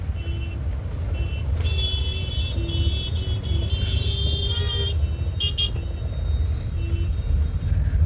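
Dense traffic jam in Ludhiana, with a steady loud roar of idling and creeping cars and motorbikes, broken by scattered short horn toots and higher beeping tones throughout.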